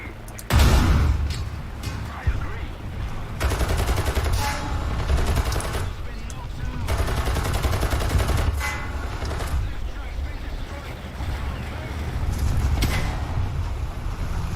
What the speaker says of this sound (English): Nah, I'm just getting smacked by a Stoke 3.